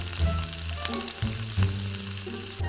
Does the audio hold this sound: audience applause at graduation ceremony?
no